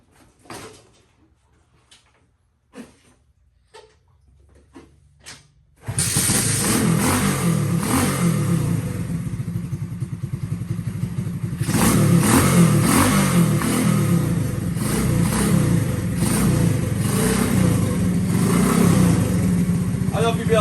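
After a few quiet knocks, a motorcycle engine on a bike assembled from spare parts fires up and runs loud and steady, rising in intensity partway through as it revs close by.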